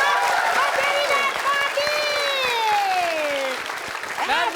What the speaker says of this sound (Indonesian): Kita kasih tepuk tangan buat Edo, Mas Jerry dan